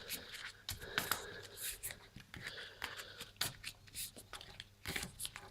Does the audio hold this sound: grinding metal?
no